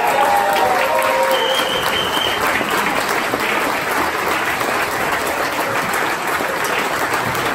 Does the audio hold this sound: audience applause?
yes